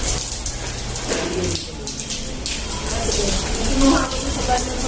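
Water sprays and patters steadily from a shower rigged on a tree to mimic rain, a continuous hissing splash heard close by while people talk over it.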